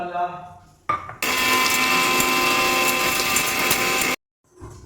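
A kitchen mixer grinder whirs loudly and steadily for about three seconds as it grinds cooled spices into a paste, starting after a short motor burst and stopping abruptly, with a voice briefly at the start and end.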